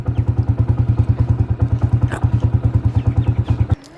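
A motorcycle engine thumps in a fast, steady rhythm up close on a village ride out to the fields, loud and even until it cuts off abruptly near the end.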